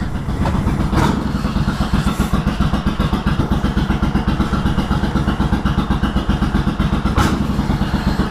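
A 1990s motorcycle engine running steadily close by, a loud, even rapid thrum with a couple of brief revs over it and no one talking.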